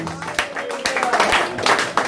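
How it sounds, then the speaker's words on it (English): Church congregation clapping hands in praise, a steady fairly close clatter of many hands with voices over it. "Clap your hands and give him praise."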